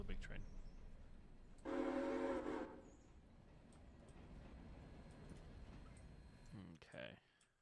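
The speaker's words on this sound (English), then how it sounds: "Because the big train is here." A big train in the railroad game Railroader, with a steady horn blast of about a second over a continuous low rumble and clicking, a brief second toot near the end, no talking.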